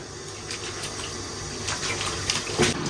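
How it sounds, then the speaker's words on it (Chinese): Running tap water pours over a raw beef steak being rinsed in a kitchen, a steady close splashing wash with a few louder splatters near the end. "牛排先给它洗一下。"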